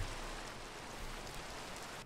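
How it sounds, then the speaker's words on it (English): Steady rain falling in a dark in-game dimension, a continuous even hiss of drops with no voices, quiet and unbroken throughout. "It's raining and dark"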